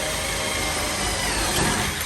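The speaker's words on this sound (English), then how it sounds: "So I'm going to drill through the top," A power drill bores down through the top of a door lock in a carpentry repair, giving a loud, steady whirring grind that holds for the whole stretch with no talking.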